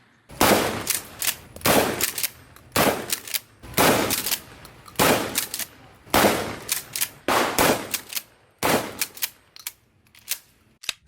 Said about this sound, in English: Today, I test out our first ever custom Mossberg 500 build.